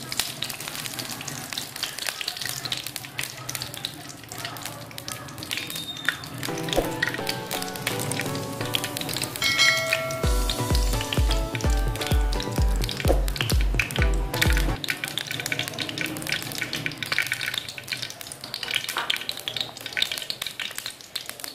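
Ghee heating in a pan for a cauliflower and mutton curry gives a continuous close sizzle and crackle, with a stretch of musical tones and rhythmic low thumps mixed in midway.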